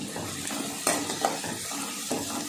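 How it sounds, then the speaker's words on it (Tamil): Onions and green chillies sautéing in a pan, a constant close sizzle broken by a few sharp scrapes and taps of the spatula as they are stirred. "வெங்காயம் நல்லா வதங்கட்டும்"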